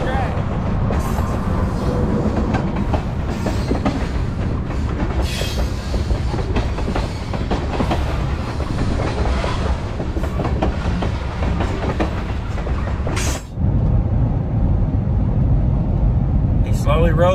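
A CSX freight train rolls slowly past close beside the track, a continuous loud rumble of wheels and cars with clacking and faint squeals, and a person talking over it.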